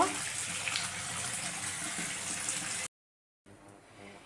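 Water from a tap running while mirka fish are washed, a steady close splashing gush that cuts out abruptly, then a quieter trickle after a brief silence.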